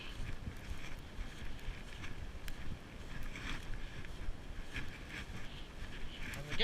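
Wind blows during a heavy snowstorm in a Virginia neighborhood as a gusty low rumble buffeting the microphone, fairly faint and continuous, rising in surges.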